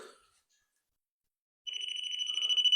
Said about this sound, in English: And if you touch that, it makes a beeping noise.